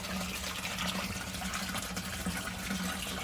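Water flushes through an aquaponic system tank, a continuous loud rushing and gurgling torrent with no pauses, no talking.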